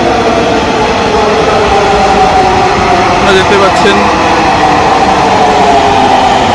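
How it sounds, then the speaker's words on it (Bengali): Dhaka metro train pulling into a station platform, a steady loud rumble and hum of the approaching train under a voice speaking throughout. "ওই ট্রেনটি আপনারা দেখতে পাচ্ছেন যে এখন কিন্তু প্রবেশ করছে।"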